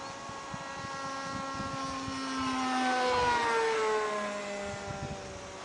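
A Laser model airplane on its first flight drones overhead, its motor whine gliding in pitch as it passes, swelling closer in the middle and fading again over wind noise with no talking.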